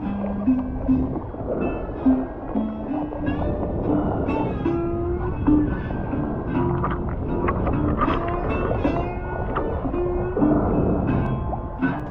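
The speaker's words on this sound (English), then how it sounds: "It was a lovely paddle back over to Kerrera." A sea kayak paddling across open water between islands off the west coast of Scotland, with continuous sloshing and gurgling from paddle strokes and the hull, close and fairly loud; no talking.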